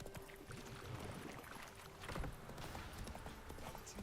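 Hooves of Geralt's horse Roach clip-clop at a trot in The Witcher 3 video game, fairly faint and steady, with ambient game sound around it.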